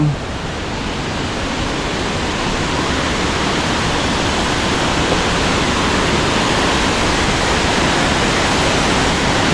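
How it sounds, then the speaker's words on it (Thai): Pha Charoen waterfall in Phop Phra, Tak, falling over tiered rock ledges, makes a constant, dense rush of water that stays loud and even for the whole stretch, with no voices over it. "น้ำตกพาเจริญนะครับ"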